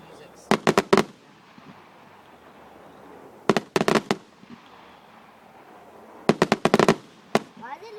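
Three bursts of fireworks go off in rapid clusters of sharp cracks, echoing across an open area with quiet gaps between volleys, at a moderate distance.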